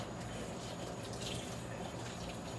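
Hot tap water runs steadily into a sink while a baby bottle is washed, a soft continuous broadband rush with no voices.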